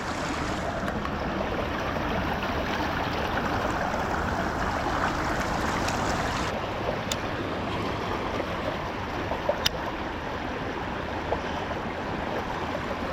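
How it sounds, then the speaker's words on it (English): Creek water rushes over a shallow riffle on a Fort Worth stream. It makes a steady, even wash that carries on throughout, with a couple of faint clicks near the end. "We followed it all the way to this riffle right here."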